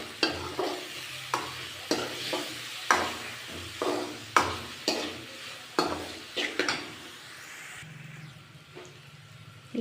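Bitter gourd and egg fry with tomato in a pan as a spoon scrapes and stirs in regular, distinct strokes over a soft, continuous sizzle, the stirring stopping toward the end.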